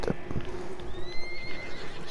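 A horse whinnies in the video game Red Dead Redemption 2, a rising, quavering neigh close by over soft hoof clops and background game ambience, with no talking.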